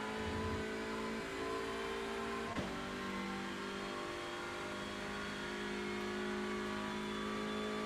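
A Hyundai Elantra TCR racing at Spa in iRacing, its engine droning hard at full throttle with a quick gearshift blip partway through, then pulling steadily at high revs to the end.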